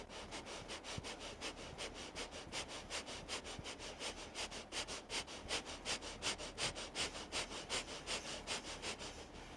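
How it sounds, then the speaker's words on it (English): Rapid, forceful nasal breath-of-fire breathing during a yoga practice, a steady train of sharp sniffing pulses about three or four per second, close and continuous with no talking. "Powerful breath of fire."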